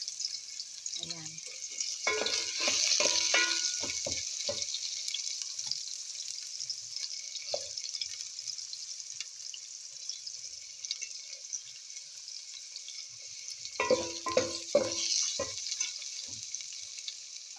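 Onions sauté in a pan for a Filipino fish paksiw with a continuous soft hiss of frying, and bursts of clattering stirring early and near the end while a voice talks over parts of it.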